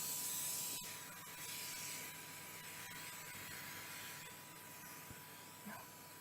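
Canola oil sprayed over raw tandoori chicken before roasting, a faint sustained hiss from the spray can with a few soft clicks and handling noises.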